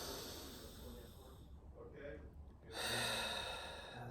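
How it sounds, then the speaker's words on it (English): Percussive, audible breathing during breathwork: sharp gasping and snorting inhales and exhales, close and fairly quiet, with a brief lull before a stronger forceful breath. "you may have heard my percussive breathing is starting to sneak in on me a little bit"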